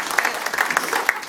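Wedding guests applaud during a best man speech, a short, dense burst of crowd clapping heard close and fairly loud.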